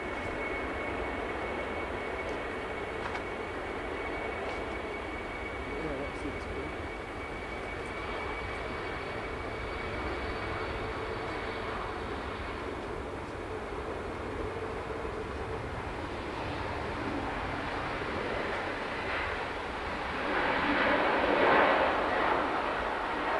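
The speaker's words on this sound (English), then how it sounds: "the big one's coming in now. It's the Emirates A380" An Emirates Airbus A380 arrives at Manchester Airport, its engines a steady broad roar at a distance that swells slightly louder near the end.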